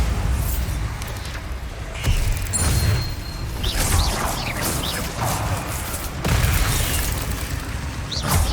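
Bombarda blasting spell explosions in Hogwarts Legacy, heavy booming bursts and crashing debris over continuous game noise, loud and close, with several impacts spread across the stretch.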